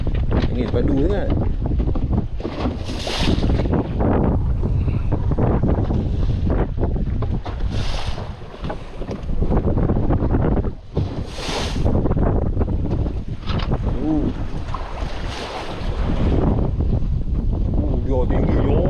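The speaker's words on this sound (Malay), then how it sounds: "Angin padu sangat." Strong wind buffets a fishing boat at sea while casting for mackerel, roaring steadily into the microphone with repeated hard gusts and surging waves, continuous and loud throughout, with a voice speaking now and then underneath.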